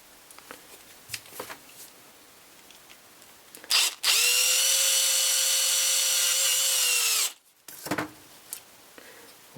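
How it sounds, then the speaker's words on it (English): A power drill bores a hole for a security camera cable, with a loud steady whine of about three seconds, preceded and followed by quieter handling clicks and scrapes. "we will drill the hole there"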